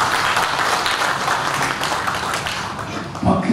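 An audience claps loudly and steadily to welcome a guest at a patriotic national-unity rally, a thick wash of applause that holds level and swells slightly near the end.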